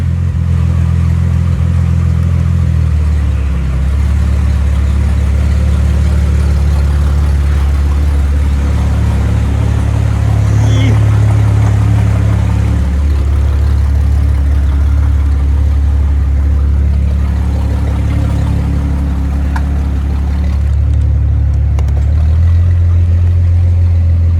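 A Mercedes SLK320 engine idles loudly and steadily close by, its low rumble shifting pitch as it goes into gear and again near the end, with no talk over it.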